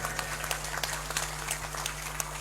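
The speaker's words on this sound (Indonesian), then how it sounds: "Tepuk tangan dulu buat semuanya" Audience applause at a large outdoor religious gathering for a year-end prayer event in South Kalimantan, a dense, steady patter of many hands with scattered sharper claps standing out, carrying on for the whole stretch without any voice over it.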